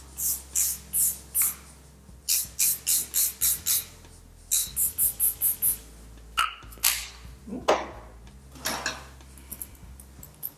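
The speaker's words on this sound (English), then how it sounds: "take this Airbrush Flawless Setting Spray" Airbrush Flawless Setting Spray misted onto a face in repeated short, close pump bursts, several quick groups of puffs with brief pauses between, fairly loud and crisp with no talking.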